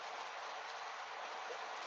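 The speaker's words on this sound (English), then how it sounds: "It's raining." Steady rain falls while someone drives at night, a constant, moderately quiet broadband hiss of rain and road noise with no distinct drops standing out.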